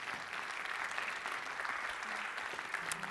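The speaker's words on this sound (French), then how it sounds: "on peut les applaudir" Faint, steady applause from an audience at a round-table discussion on ecological issues, a soft, even spread of clapping heard from a distance.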